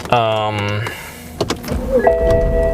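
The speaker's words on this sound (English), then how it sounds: "car starts with no problems" A BMW with a transmission fault that stays in neutral: a whining electrical tone, then the starter cranks and the engine catches and settles into a steady idle with a thin high tone over it.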